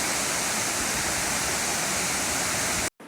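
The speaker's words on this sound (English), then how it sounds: "Sound of the waterfall makes perfect melody with chirping of the birds" A scenic waterfall in dense teakwood forest in Uttarakhand pours in a steady, full broadband roar that fills the scene without pause, then cuts off abruptly near the end.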